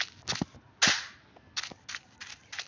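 Gunfire in the video game SFG2: about half a dozen sharp, close, cracking shots in an uneven sequence, one louder blast with a ringing tail in the middle, and no talk.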